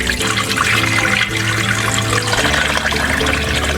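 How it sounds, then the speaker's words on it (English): Water pours steadily into a cooking pot holding frozen mustard and spinach greens, a loud continuous splashing rush up close that shifts slightly in tone partway through as the pot fills. "Just add water."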